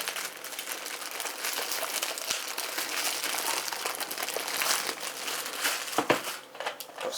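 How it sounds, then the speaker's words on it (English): Plastic packaging around a new Brother DCP9015CDW waste toner box being unwrapped on a workbench, close crinkling and rustling that continues with irregular crackles and a few sharper snaps near the end. "Unwrap our new one."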